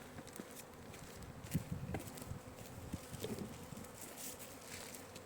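Honeybees buzz around an open beehive in a beekeeper's yard, a faint, continuous drone with a few passing bees louder up close, and no talking.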